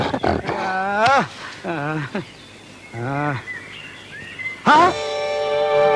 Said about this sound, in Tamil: ஐயோ, கரடி